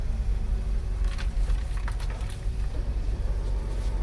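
Low rumbling road noise from a 2005 Acura TL A-Spec in motion, with faint scraping and rubbing sounds of a tire rubbing breaking through intermittently. No one speaks.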